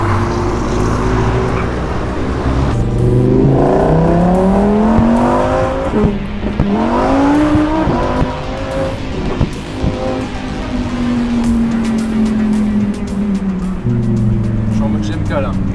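A Lamborghini sports car accelerates along winding Monaco roads, its engine note rising and falling through gear changes, loud and close from inside, with people talking over it.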